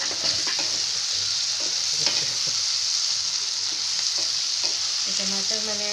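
Spices, salt and chopped tomato fry in a pan for a cabbage curry. The sizzle is loud and constant, with small pops and a clink of stirring toward the end, and nobody talks.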